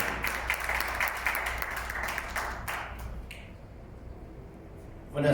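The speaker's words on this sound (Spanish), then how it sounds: "Recibamos con un fuerte aplauso al contador público" Audience applause at a public event as an accountant is welcomed to speak, a dense wash of clapping that fades out over several seconds before a brief louder burst at the end.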